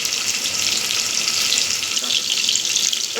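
Onion sautéing in a pan, a loud steady broadband hiss of sizzling oil that holds evenly throughout, close by, with no voices.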